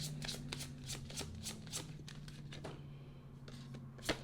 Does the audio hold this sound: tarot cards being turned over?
yes